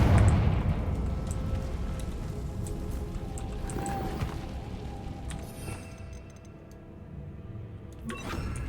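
A Confringo blasting spell in Hogwarts Legacy, a deep booming explosion at the start that rumbles and fades, followed by scattered crackles and debris sounds over a low ambient bed.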